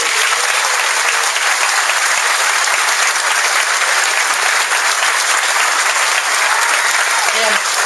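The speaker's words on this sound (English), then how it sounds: "Please give them a round of applause." Sustained, dense applause from a large audience at a Chicago race event honouring its volunteers, loud and even for the whole stretch, with a voice faintly beneath it.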